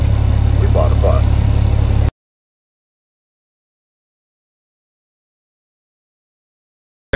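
A bus engine idles loudly for about two seconds with a steady low rumble, then the clip drops to silence before sound briefly returns at the very end; a voice is heard over the motor.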